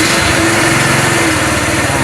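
Small carburetor scooter engine running in cold weather, a buzzy high-pitched putter with a steady rapid pulse, close and loud, without pauses.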